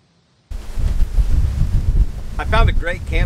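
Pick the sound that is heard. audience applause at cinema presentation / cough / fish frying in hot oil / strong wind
strong wind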